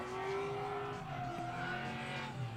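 A Ford Mustang drift car at a Colorado tandem drift competition screams past with a loud engine and sliding tires squealing continuously, close and sustained.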